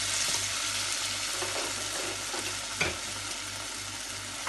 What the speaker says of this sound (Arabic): ننزلها بالزيت مباشرة